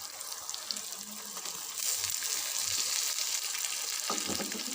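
Onion-tomato masala with green chillies fries in a pan for egg masala gravy, giving a steady, close hiss and sizzle with occasional scraping as it is stirred.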